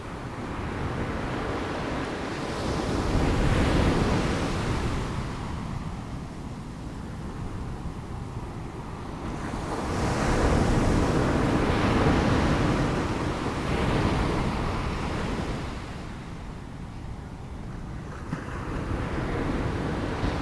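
Ocean waves surge in and recede in slow, broad swells roughly every six to seven seconds, a full wash of surf with wind-like hiss and no voices.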